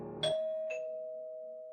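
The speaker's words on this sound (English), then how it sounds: "The doorbell rang." A doorbell rings indoors with two clear chimes, a sharp first tone and a softer second one, followed by a long ringing tone that slowly fades. There is no talking and no other sound.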